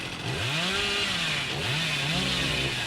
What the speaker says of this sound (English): no real chance for Billy to move around that with a chainsaw